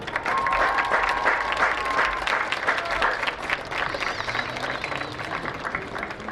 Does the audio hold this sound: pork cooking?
no